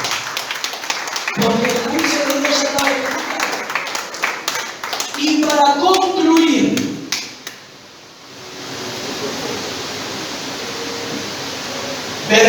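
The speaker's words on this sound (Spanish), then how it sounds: "Aplaudan." A church congregation breaks into clapping during a sermon, a loud burst of claps mingled with voices for several seconds that then drops away into a quieter, hissy room tone.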